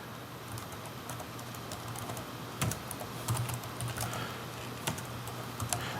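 Keys clack on a computer keyboard as a command is typed, a steady close patter of individual keystrokes with a few louder taps over a low hum and no voices.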